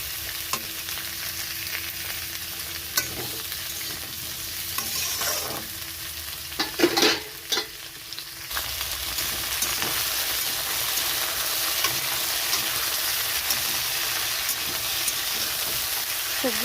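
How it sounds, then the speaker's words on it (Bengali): Vegetables for a light vegetable curry fry in a pan while being stirred: a steady close sizzle runs throughout, with scraping stir strokes and a few louder clatters near the middle. "সবজিটা একটু হালকা ভাজা হয়েছে,"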